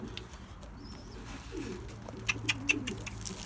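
Domestic pigeons, recently released outdoors and not yet used to the place, give soft low coos and rustles. A few brief sharper sounds stand out near the end over steady background noise, with no talk.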